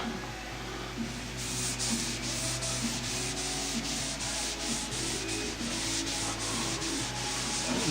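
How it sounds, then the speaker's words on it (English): A towel wipes excess stain off a wooden Hoosier cabinet with a steady, close, continuous rubbing, joined after the first second by a quick regular back-and-forth scrubbing rhythm that runs to the end. "take a towel here, and we'll start"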